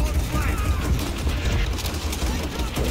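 Constant gunfire in Call of Duty: World at War co-op, a dense rattle of shots running without break, with players talking over the noise.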